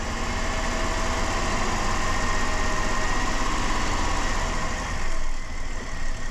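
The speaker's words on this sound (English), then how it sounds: "I like to kind of rev it up and down a bit to allow pulses to kind of distribute it a little bit better, rather than just a steady RPM." Car engine running steadily during a Seafoam intake cleaning, a dense mechanical drone with only mild rises and falls in revs and a brief louder surge near the end.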